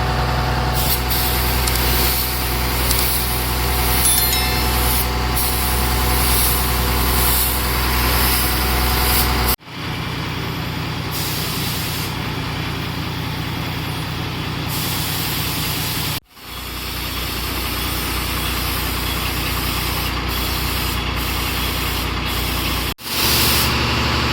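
Spray painting a vehicle with its headlights and indicators taped over: a steady loud hiss of the spray gun with a compressor-like hum underneath, broken by a few abrupt short pauses.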